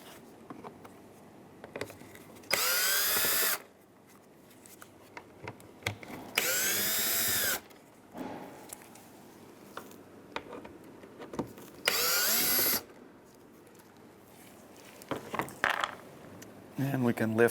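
A power screwdriver removing Phillips screws from the front bumper and fog light trim of a 2015-2019 Hyundai Sonata whirs in three short, loud bursts, separated by quieter handling noises.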